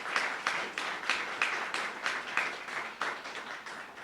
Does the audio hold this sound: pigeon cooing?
no